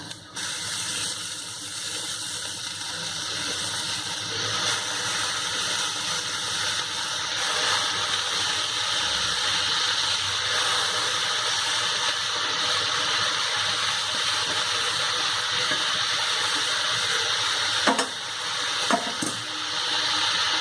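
Red amaranth greens tossed into a cooking pan with onion, giving a steady loud hissing sizzle that persists throughout with a couple of faint clinks near the end.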